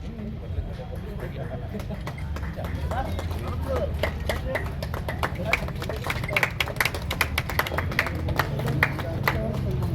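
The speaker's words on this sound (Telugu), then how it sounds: "ఒక్కసారి అందరు చప్పట్లు" Crowd clapping at a Hindu community gathering on stage, a dense steady patter of many hands that builds and continues loudly throughout, with voices and background noise mixed underneath.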